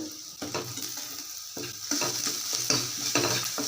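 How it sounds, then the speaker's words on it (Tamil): Onions sizzling and frying in hot oil, with occasional scraping strokes of a spoon stirring the pan, close up. "இந்த எண்ணெயிலே நல்லா வெங்காயத்தை பொறிச்சிக்கலாம்"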